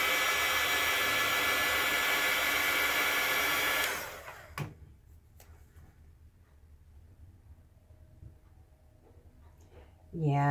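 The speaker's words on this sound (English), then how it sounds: "Give it a quick dry with my heat tool." A heat tool drying freshly applied marker ink blows a loud, steady, close-up whoosh for about four seconds, then cuts off, leaving quiet handling clicks and faint movement.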